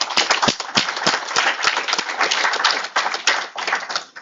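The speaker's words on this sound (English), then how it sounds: "let's give them another well-deserved round of applause, please" An audience at a university open house gives a loud, sustained round of applause, dense overlapping claps with sharper individual smacks standing out, steady throughout without speech.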